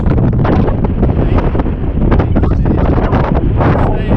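Strong wind roars without a break across a mountain in the Cairngorms, buffeting the microphone loudly and steadily, with no pauses or other clear sounds.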